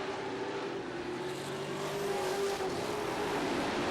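Limited late model race cars roar around Barrie Speedway on opening night in 2008, a steady, droning engine noise from a distance that swells slightly as the pack passes.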